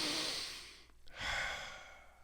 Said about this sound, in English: We're going to do that by breathing.